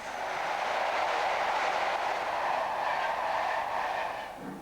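A train rumbles past with a rushing, clattering roar that swells and then fades away near the end.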